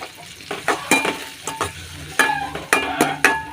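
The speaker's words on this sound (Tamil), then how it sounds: "இஞ்சி பூண்டு பேஸ்ட்டையும் போட்டு நல்லா வதக்கி விட்டுங்க." Tomatoes and ginger-garlic paste sautéing in a pan for a brinjal curry, giving a steady close sizzle broken by repeated scraping strokes of a stirring spoon.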